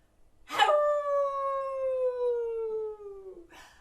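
A wolf howl played as a sound effect in a theatre production: one long, clear, loud howl that slides slowly downward for about three seconds before cutting off, with no talking.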